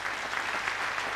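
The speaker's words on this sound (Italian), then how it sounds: "facciamo un applauso a Topo Gigio" A live show audience applauds for the Topo Gigio puppet, a steady, close, even wash of clapping heard alone.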